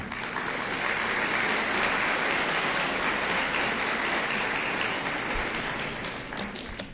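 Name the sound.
audience applause welcoming a speaker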